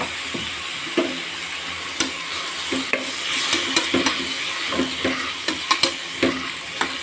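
Tomatoes and onions sauté in a pan for beef masala curry, a soft continuous sizzle broken by repeated sharp scrapes and taps of a spoon stirring against the pan, with no voices.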